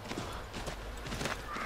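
Horse hooves clip-clop in the Assassin's Creed 3 video game, a quiet, even trotting rhythm under a low background hum.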